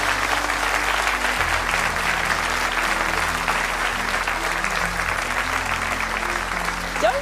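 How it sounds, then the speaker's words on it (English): A large theatre audience at a tribute event gives loud, sustained applause, an even, dense wash of clapping from many hands with a low hum beneath it. "A big round of applause."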